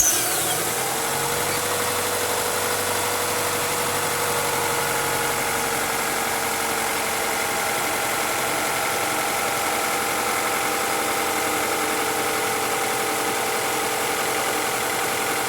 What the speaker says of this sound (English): All right, fire up the engine.